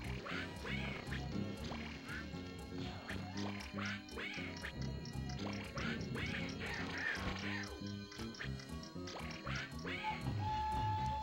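Donald Duck quacks again and again in the Nintendo 64 game Donald Duck Goin' Quackers, loud squawky calls repeating over busy game music and sound effects.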